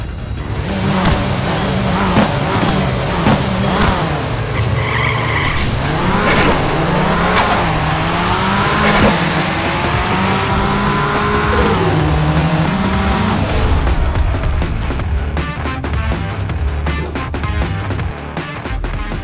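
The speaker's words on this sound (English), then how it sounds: "Another blown Mini Cooper." Engine roar of a Mini Cooper with a blown engine racing in the Nitronation mobile drag racing game, a continuous loud whine that climbs steadily through the gears, ending in a burst of rattling noise.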